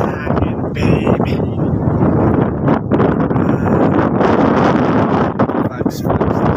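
Strong cold wind at Tagaytay buffets the microphone with a loud, continuous roar that gusts throughout, while people talk over it.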